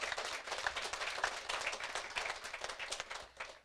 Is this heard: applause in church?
yes